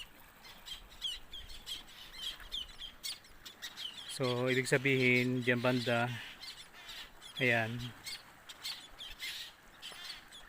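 Seabirds call from a nesting rock rising in the middle of the sea, home to vast numbers of birds: a steady scatter of chirps and squawks throughout, with someone talking briefly over them in two spots.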